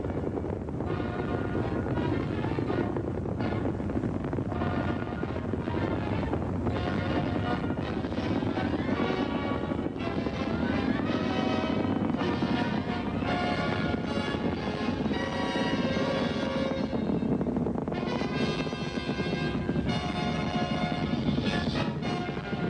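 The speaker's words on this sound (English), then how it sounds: "As Saturn V lifted off Launch Complex 39 for the first time" A Saturn V rocket lifting off from Launch Complex 39 on its first flight, a sustained loud, dense roar with crackling texture that holds steady throughout.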